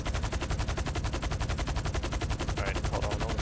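Rapid, continuous automatic gunfire in a steady fast rhythm, loud and sustained throughout with no gaps, heard aboard a helicopter during a drop.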